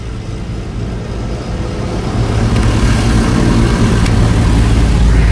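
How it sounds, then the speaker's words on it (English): Automatic car wash running loudly around a car, with a steady, dense low roar of machinery and spray that builds slightly louder over the span, close and continuous without talk. "I'm in the Loud Ass car wash, getting my car washed, and I'm enjoying it."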